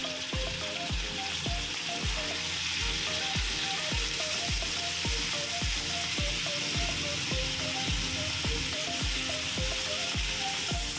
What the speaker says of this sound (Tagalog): habang ginigisa natin ang ating pork